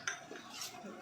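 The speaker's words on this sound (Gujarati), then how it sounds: "તેને આ રીતે હલાવી કાઢવાનું, ગાંઠા ના પડે તે રીતે।" A spoon clinks briefly against a glass or bowl while cocoa powder is stirred into cold milk for homemade cold cocoa, a short close metallic tap followed by soft scraping.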